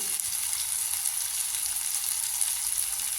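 Chopped tomatoes sautéing in a pan for coconut milk pasta, giving a continuous even sizzle and frying hiss, close and steady with no breaks.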